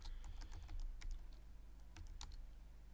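Close, quiet keystrokes tap on a computer keyboard in quick irregular bursts, with short pauses between clusters of clicks.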